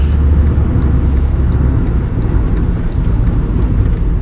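A car cruises along a highway and moves over toward an exit, a loud steady rumble of road and engine noise heard from inside the car with no talking.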